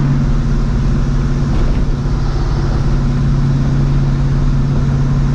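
A New Edge Mustang GT with a Vortech V1 Ti-Trim supercharger drones loud and steady from inside the car while driving, a constant low engine hum with no pauses.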